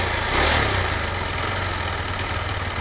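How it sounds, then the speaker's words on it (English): Engine of a KTM Duke 390 BS6 motorcycle, a smooth, steady mid-low drone with a brief rise in level near the start, close and alone with no voices. "Now let's rev."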